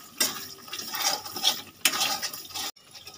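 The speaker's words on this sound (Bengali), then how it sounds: "একটু নেড়ে চেড়ে নেব।" A spoon scrapes and stirs through a pan of chicken and pointed gourd dorma after fried spice masala and sugar go in. Sizzly, metallic swirling strokes with a couple of stronger scrapes, then an abrupt stop.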